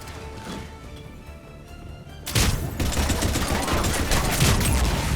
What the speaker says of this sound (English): with a lovely fire explosion the Centurion vanishes